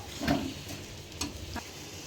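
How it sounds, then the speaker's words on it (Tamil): Jaggery and grated coconut stirred together in a pan for sweet kozhukattai filling: soft scraping and light sizzling with a few faint ticks from the spoon, fairly quiet. "வெல்லத்தையும் தேங்காயும் ஒன்றா போட்டு நல்லா கிளறிக்கணும்."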